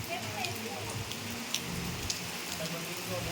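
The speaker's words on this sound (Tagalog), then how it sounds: "Kahit umuulan." Steady rain pours down at a hotel in Tagaytay, a dense continuous patter with scattered drops striking nearby surfaces.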